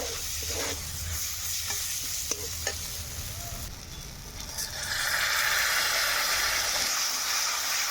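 Fried masala for an egg, potato and soybean curry sizzles in hot oil as sour curd goes in and is stirred. A steady loud crackle runs under scraping stirs, swelling brighter and hissier partway through, with no talking.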